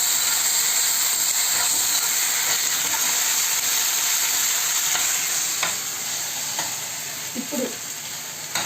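Ginger-garlic paste fries with onions in hot oil, a constant close sizzling hiss with occasional spoon scrapes and stirring clatters that ease off slightly toward the end.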